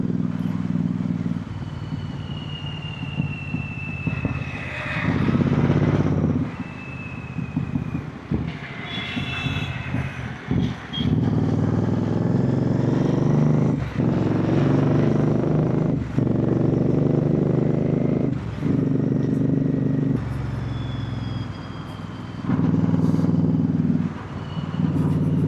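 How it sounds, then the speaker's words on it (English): Moving road traffic in Delhi heard from a motorcycle, a continuous loud rumble of engines and road noise with passing vehicles rising and fading and occasional high horn tones over the top. "it's a bit of a moving traffic today"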